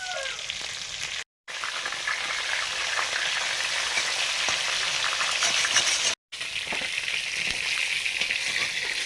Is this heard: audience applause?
no